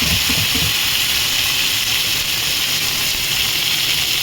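Cauliflower, peas and carrots hit hot oil seasoned with cumin seeds for a rice dish, and a loud, continuous, hissing sizzle fills the whole stretch close by, with no talking.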